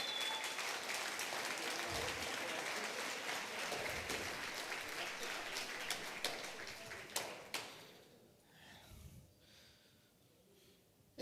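A church audience applauds in a dense wash of clapping, which then thins into a few scattered claps and fades to near quiet with some breathing close by.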